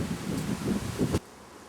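Gusty wind buffeting the microphone in low rumbling bursts, then dropping off suddenly to near quiet.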